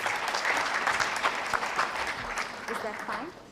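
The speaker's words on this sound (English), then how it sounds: "Let's welcome him with a nice round applause of" Symposium audience applauding to welcome a presenter, a dense moderate clatter of hands that gradually thins and tapers toward the end.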